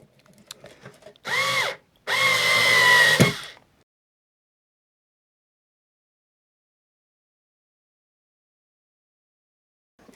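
A power drill drives screws to mount a model railway tortoise turnout motor, running in two short whirring bursts close by, then going quiet.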